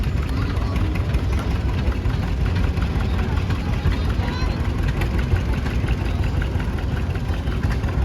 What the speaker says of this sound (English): '36 John Deere AR